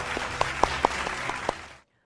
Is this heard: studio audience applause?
yes